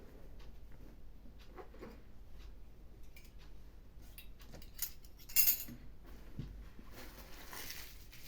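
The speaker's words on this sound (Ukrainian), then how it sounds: "ложка, ніж, за бажанням може бути виделка, щоб можна було їсти" Metal cutlery (spoon, knife, fork) clinks and rattles softly nearby, with scattered light taps and a brief louder clatter partway through.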